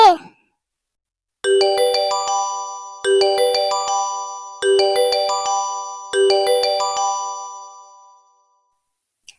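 A phone ringtone plays a chiming melodic phrase four times with short gaps, clear and close, in an otherwise quiet room.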